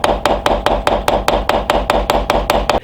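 A knife blade is hammered against the peak of a ball-peen hammer clamped in a vise, about eleven sharp, evenly spaced metallic blows in a brisk steady rhythm, loud and close, with no voices.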